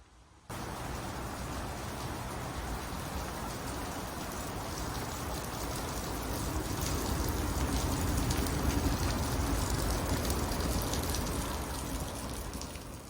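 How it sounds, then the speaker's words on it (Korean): Steady rain pours down in a dense, even hiss that swells slightly louder midway, with no voices, lasting the whole stretch. "갑자기 비가 오기 시작합니다"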